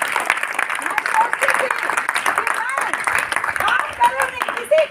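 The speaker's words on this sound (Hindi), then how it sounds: "एक बार जोरदार तालियां फिर से" Loud audience applause fills a hall at a ladies' marketing team gathering, with a speaker's voice carrying over the steady clapping throughout.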